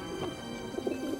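A feral pigeon coos softly in low, throaty, repeated notes against a steady urban background hum, fairly faint and without voices.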